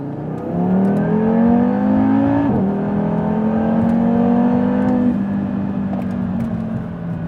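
Audi with an MBRP cat-back exhaust revving up, a close, steady engine drone that climbs in pitch, dips sharply at one point, then holds a rising tone for several seconds with no talk.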